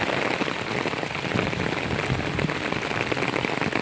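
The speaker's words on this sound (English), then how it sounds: "I'm so happy it's raining." A constant rush of falling rain, thick and unbroken, drops splattering on surfaces nearby at an even level.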